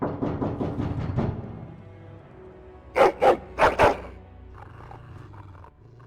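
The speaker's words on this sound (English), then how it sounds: "Your hound is making so much noise." A hound barks in the video game Dragon Age: Origins: a run of rapid rough barks, then two pairs of louder, sharper barks over a low game ambience.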